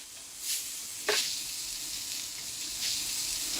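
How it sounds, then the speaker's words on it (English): Hamburger patties sizzle steadily in a very hot pan just after being flipped, a continuous close, bright frying hiss with brief louder spatters, no talking. "Let's see where the hamburgers are going. Let me just flip it. The temperature is pretty high."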